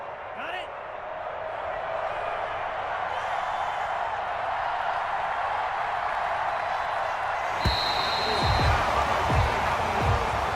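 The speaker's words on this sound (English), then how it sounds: "And the home crowd applauding." A crowd in the Madden 21 American football video game cheers and applauds for the home team after an Atlanta Falcons victory, a steady broad roar of clapping and voices that swells slightly, with a few sharp knocks near the end.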